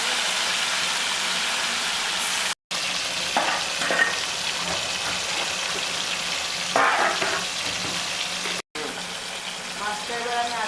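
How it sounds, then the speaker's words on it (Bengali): Fish fries in hot oil in a pan, giving a loud, continuous sizzle broken by stirring scrapes and two brief dropouts. "মাছটা ভেজে"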